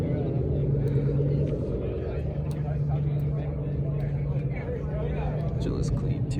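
An Audi TT RS idles at a car meet with a steady low engine rumble and a droning hum underneath, close and continuous, while people chat nearby.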